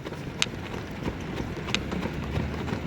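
Faint hoofbeats of a trotting harness racehorse at a distance, soft irregular clops over a steady low background rumble.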